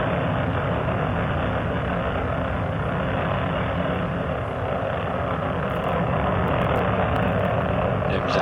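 Space shuttle Endeavour's three main engines roar during an STS-100 launch, a loud, steady, dense rumble that holds continuously without a break from start to finish.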